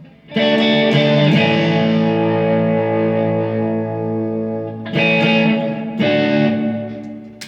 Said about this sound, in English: Added a little reverb there.